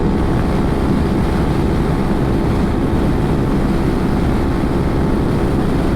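A Honda Forza 300 scooter runs at full throttle near top speed, a constant loud roar thick with wind rush, steady and unbroken from start to finish.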